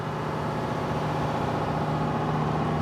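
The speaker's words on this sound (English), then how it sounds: "This is what the 212 Alpha sounds like when using its conventional diesel engine." Conventional diesel engine of a 212 Alpha submarine running steadily, a loud, continuous low droning hum with a constant tonal rumble and no breaks.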